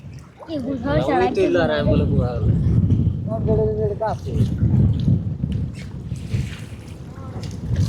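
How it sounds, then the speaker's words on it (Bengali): Strong wind rumbles and buffets steadily outdoors by a river during net fishing, with voices speaking over the gusty roar. "প্রচুর পরিমাণ বাতাস"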